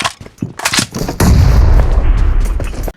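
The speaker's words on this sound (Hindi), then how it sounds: "यहाँ पर ग्रेनेड से एक और बंदे को नॉक कर देता हूँ" A grenade explosion in the battle royale game BGMI (PUBG): after a few sharp in-game gunshot cracks, a loud, sustained low boom erupts and rumbles for over a second before cutting off abruptly.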